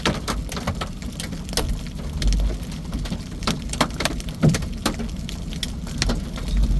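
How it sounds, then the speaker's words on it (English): Very large hail, nearly baseball size, pounding down during a tornadic supercell near Woodward, Oklahoma, as a dense continuous clatter with sharper individual impacts cracking out over a steady rumbling roar. "Very big hail."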